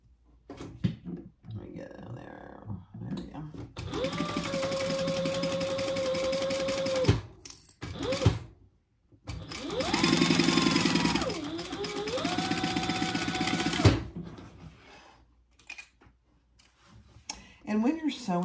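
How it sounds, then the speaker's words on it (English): A sewing machine stitches handbag lining pieces together in two long, steady runs of rapid mechanical whirring, each ending abruptly, close and loud, with quieter handling noises in between. "Sewing these pieces together,"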